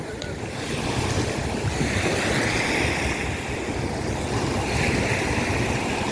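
Strong ocean waves wash steadily onto Xylofagou beach in the afternoon, a loud continuous surf roar with wind buffeting the microphone and no clear talk.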